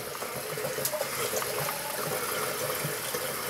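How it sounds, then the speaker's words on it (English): Water pours gently and steadily into a shaving soap as part of a wet shave, a soft, close, continuous trickle with faint splashes and no talking. "I'm gonna be careful with how I put water in this"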